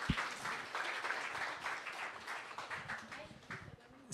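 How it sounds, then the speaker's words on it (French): An audience applauds a presenter at a student science event, with steady, fairly soft clapping throughout and voices mixed in. "une bonne main d'applaudissements pour Julien"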